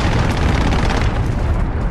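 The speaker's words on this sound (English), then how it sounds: "Enemy cruise missile is coming." A cruise missile strike in the Call of Duty Modern Warfare video game, a continuous loud, dense roar of explosion and rumble filling the whole stretch with no pause.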